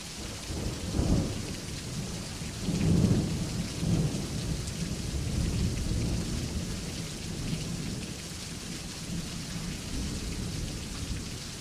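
A thunderstorm with steady rain falling on surfaces. Low, rolling thunder swells and fades under the constant hiss of rain, fairly faint and distant.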